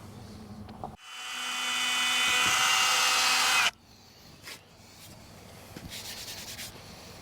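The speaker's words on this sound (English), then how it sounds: "we're going to drill them both at the same time" Two holes drilled at once through a custom console panel in a Cummins-swapped square body K30 truck, a loud steady whine that rises over about three seconds and then stops abruptly, followed by lighter tool clatter.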